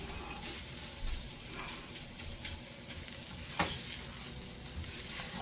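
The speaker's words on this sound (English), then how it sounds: "I'm cooking your liver." Homemade dog food with liver and peas sizzling in a pan as it is stirred, a steady soft frying hiss with occasional scraping clicks of the spoon.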